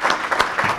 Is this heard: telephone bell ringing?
no